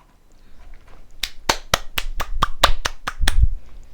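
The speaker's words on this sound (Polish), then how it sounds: "Bijemy brawo." A short burst of hand clapping, about ten sharp claps in a steady rhythm, close and fairly loud during a Natural Disaster Survival game session.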